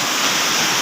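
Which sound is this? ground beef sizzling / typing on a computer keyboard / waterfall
waterfall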